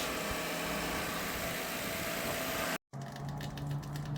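A Mazda Miata's engine runs steadily at idle, a continuous buzzing hum close by that cuts out for a split second, then resumes with a lighter, rhythmic rattle.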